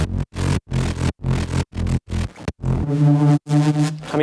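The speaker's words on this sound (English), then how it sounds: "just some basic distortion here" A synth sound run through basic distortion with light drive, heard as a series of short, loud, gritty chopped bursts that give way to a sustained buzzing tone, with nobody speaking.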